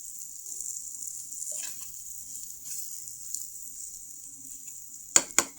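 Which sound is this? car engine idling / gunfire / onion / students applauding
onion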